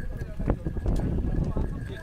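Horse hooves clip-clop along the Amarnath Yatra mountain trail toward Panchtarni, steady and fairly close, mixed into busy crowd noise and voices.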